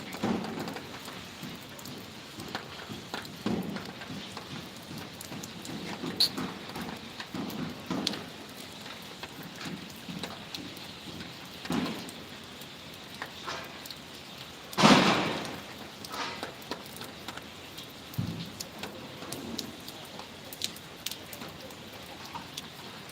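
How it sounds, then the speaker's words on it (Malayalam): Light drizzling rain falls outdoors, making a faint, steady hiss and patter with scattered drop taps and one brief louder splash partway through. "മഴയല്ലേ ഇന്ന് മഴയാണ് ചാറിയും കൊണ്ടൊക്കെ ഉണ്ട്"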